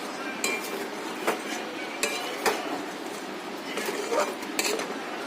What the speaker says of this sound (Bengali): এই যে মশলাটা মিশিয়ে দেবো।